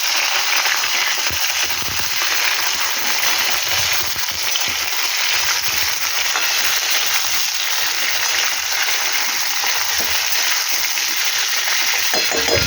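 Long strips of pointed gourd and potato frying in oil in a pan, a loud, dense, continuous sizzle close by with scattered crackles and light clinks.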